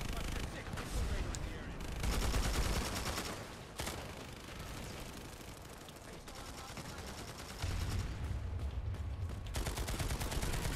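Dense, sustained gunfire from the online shooter Planetside 2, with rapid automatic bursts and heavier blasts rolling continuously at loud, close range, swelling and easing in waves with no clear pauses.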